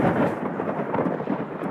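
Thunder rumbles through a violent thunderstorm with rain, a dense, continuous roar that stays loud throughout with no voices.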